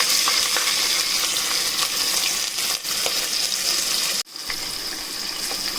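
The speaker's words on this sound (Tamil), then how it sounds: "எண்ணெய் சூடாயிடுச்சு. அதுக்கப்புறம் நம்ம எடுத்து வச்சுருந்த 2 வெங்காயத்தை சேர்த்துக்கலாம்." Two onions hitting hot oil in a pressure cooker for Chettinad-style chicken gravy, giving a loud, steady hiss and sizzle throughout that briefly cuts out near the end before resuming.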